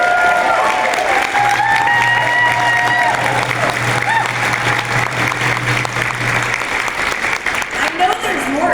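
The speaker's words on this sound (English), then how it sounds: "let's give them a round of applause" Sustained applause fills a conference hall as the audience honors youth participants standing up, dense clapping with scattered voices and a few cheers throughout.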